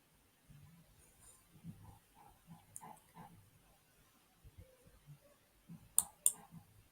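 A computer mouse clicks on a web page link, giving a couple of sharp, close clicks near the end after a stretch of quiet handling noise.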